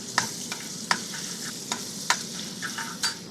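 Steady sizzling of garlic and ginger paste frying in hot ghee in a kadai, with soft intermittent scraping stirs and light clinks of a utensil against the pan.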